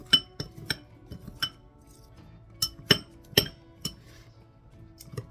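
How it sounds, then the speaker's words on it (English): Kitchen knives chop cold butter into small bits for a pastry crust, giving about a dozen sharp, near clinks and taps of metal on a bowl in an uneven rhythm, with no talking. "I'm just gonna use the knives to chop up the butter into small bits."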